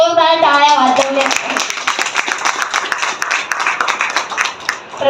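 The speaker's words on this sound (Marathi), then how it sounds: "एकदा महिलांनी स्वतःसाठी जोरदार टाळ्या वाजवल्या." Women clap loudly at an honour ceremony in Navi Mumbai marking Women's Day. A voice speaks briefly at the start, then dense, steady applause fills the rest of the clip.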